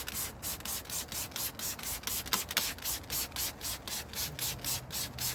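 A spray bottle fires rapid, rhythmic bursts of cleaner onto car wheels, about three squirts per second, close and fairly loud, with no speech.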